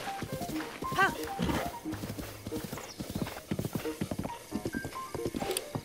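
Rhythmic clip-clop of a horse's hooves in a Zelda game on Nintendo Switch while taming a wild horse, steady trotting with a whinny mixed in, under game music and someone talking.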